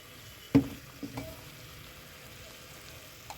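Spiced chicken Patiala masala with yogurt and coriander powder sizzles gently in the pan while being stirred, with a sharp spoon knock near the start and a few lighter scrapes over a low, steady frying hiss.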